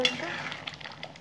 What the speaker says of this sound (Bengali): নেড়ে দেবো একটু, এরকম করে কাজু বাটা দিয়ে